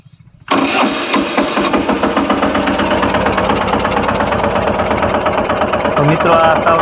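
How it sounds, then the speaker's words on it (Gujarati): A new Captain 200 DI mini tractor with an 895 cc diesel engine cranks and fires, then settles into a steady, loud, close idle with a rhythmic knocking chug that continues to the end. "પહેલાં ટ્રેક્ટર શરૂ કરીને જોઈએ।"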